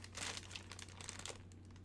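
A plastic bag from a Marvel Collector's Corps Deadpool box being handled, close crisp crinkling and rustling in irregular bursts over a low steady hum, quiet overall.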